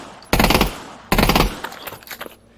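Two sharp automatic gunfire bursts from a weapon in the Pavlov VR shooter, each a dense rapid rattle lasting under half a second, loud and close, followed by fainter trailing clatter.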